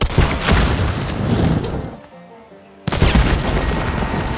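Gunfire with explosive ammo detonating red barrels in Hunt: Showdown, loud crashing blasts and a dense burst of noise, then a brief near-silent gap before another heavy explosion erupts.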